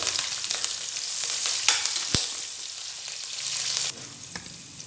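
Eight to ten long-cut green chilies drop into a hot pan for lemon pepper chicken, setting off a loud steady sizzle with a sharp clack of contact midway, the hiss easing off near the end.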